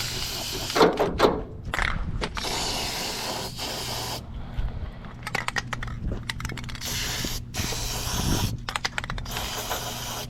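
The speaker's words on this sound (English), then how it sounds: "we're gonna go ahead and lube everything up, mainly over here" Aerosol lubricant sprayed in short hissing bursts onto the tailgate latch mechanism of a Toyota pickup or 4Runner, several separate sprays with pauses between them, close up against a steady low hum.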